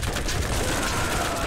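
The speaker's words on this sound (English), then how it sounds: "Shoot them all!" Dense, rapid gunfire from the video game Borderlands crackles without pause in a loud, continuous burst of overlapping shots.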